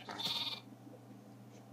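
A single short sheep bleat from Minecraft sounds clearly at the start, followed by near-silence with a faint low hum.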